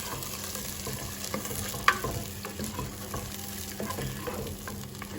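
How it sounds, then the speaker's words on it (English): Chopped tomatoes being stirred into a garden egg stew in a pot in Ghana, a steady soft sizzle and frying hiss with occasional spoon clinks against the pot, no talking. "Then we mix everything well together"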